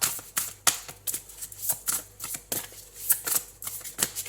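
Tarot cards being shuffled to draw a final card, a close series of crisp, irregular riffling slaps and flicks, fairly loud and alone.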